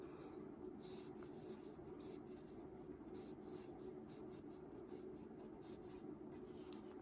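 Lamy fountain pen with a broad steel nib scratching across paper, a soft, continuous, quiet scraping with small rhythmic strokes.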